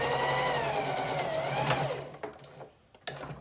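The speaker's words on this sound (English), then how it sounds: "this is gonna be doing the chain stitch, so I'm not pulling out that fabric, I'm not cutting any threads just yet" A sewing machine hums steadily while chain stitching fabric pieces for masks, close and fairly loud, then slows to a stop followed by a few light clicks and handling noises.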